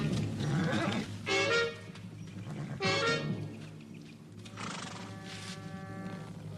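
A horse in a Western setting neighs loudly several times, each whinny a bright rising-and-falling burst separated by brief pauses, close by and with no talk.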